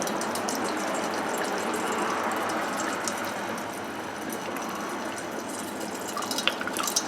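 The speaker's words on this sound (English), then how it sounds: "All of the oil will start to drain out of that point right there." Engine oil drains from the oil filter housing of a 2015 Infiniti into a catch bucket, making a steady liquid trickle and patter that runs for the whole stretch at an even level, with a few small drips near the end.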